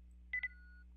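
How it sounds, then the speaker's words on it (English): In the game NIKKE: Goddess of Victory, a tablet powering on gives two quick electronic beeps followed by a fading tone, faint against a low steady hum. "there's a beeping sound as the tablet screen powers on"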